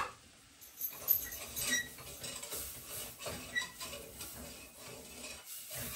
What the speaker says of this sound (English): My butter's melted here, so I'm going to put my 1/4 cup of flour, and I'm going to whisk this.